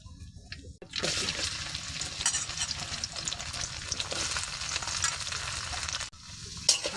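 Bay leaves, cloves, cinnamon and cardamom fry in oil in a pan on a clay stove, giving a steady, close sizzle with stirring. It runs for about five seconds, drops away briefly and then starts again. Nobody speaks.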